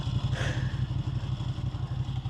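A Ducati motorcycle engine thrums steadily while riding on a mountain road, a close, pulsing low rumble with a brief whoosh of wind or passing noise near the start.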